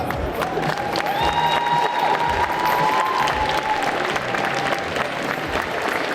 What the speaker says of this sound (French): Applaudissez-les encore.